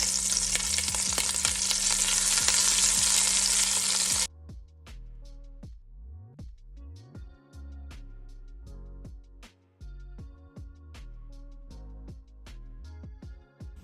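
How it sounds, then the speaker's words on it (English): Meatballs frying in hot oil, a loud, steady sizzle for the first few seconds that cuts off abruptly, followed by scattered clinks and clatter from handling them. "It's the one bad thing about frying your meatballs all the way through like this."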